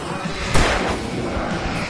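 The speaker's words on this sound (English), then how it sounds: "I can set off more of the fireworks from here and help you out!" Fireworks go off in the video game Alan Wake Remastered, with a sudden loud burst followed by a dense, rumbling crackle that stays strong to the end.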